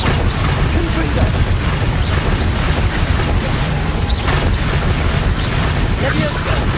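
A Confringo spell blast from Hogwarts Legacy rumbles and crashes continuously, a dense, loud barrage of booming explosions and debris filling the whole stretch without pause.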